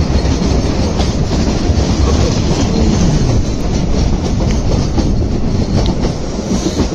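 Kalka-Shimla narrow-gauge toy train rolling along its rails in the Shimla hills, a loud, steady rumble with faint clickety-clack of the wheels and the rattle of the carriages filling the whole stretch, with no talking.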